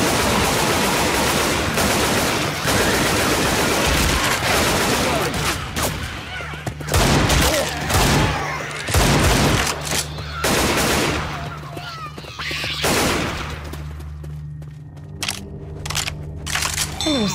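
Assault rifle gunfire in Left 4 Dead 2, loud close bursts and rapid volleys over the first half, then scattered single shots and quieter gaps, with voices talking under the action.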